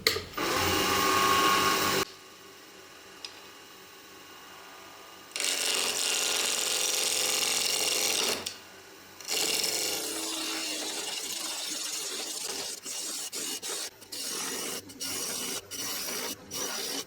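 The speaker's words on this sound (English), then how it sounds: "now it's time to throw it on the lathe and hopefully get you guys some good old ASMR" Wood spinning on a lathe as a tool cuts into it, with bursts of loud scraping and hissing broken by short pauses, then a run of quick tapping and scraping strokes toward the end.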